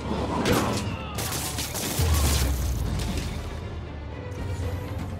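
Thugs fire guns in Marvel's Spider-Man, a fast, chaotic volley of overlapping shots with heavy thuds and crashing impacts, loud and close throughout.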